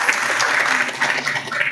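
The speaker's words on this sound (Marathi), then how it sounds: "एकदा टाळ्या वाजवा" People seated at a Marathi satsang gathering clap together in a short, lively burst of many hands, fairly loud and close, with faint voices mixed under the clapping.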